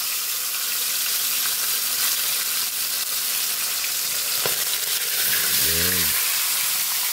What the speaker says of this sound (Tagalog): Magpiprito na po tayo ng ating isdang tilapia.